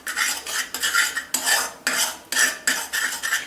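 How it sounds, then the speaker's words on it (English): A spoon stirs a quarter teaspoon of lemon juice into a homemade food colouring mixture in a bowl, making steady, repeated scraping and clinking strokes at close range with no talk. "I'm going to add in again 1/4 teaspoon of lemon juice, and I'm going to just mix it in."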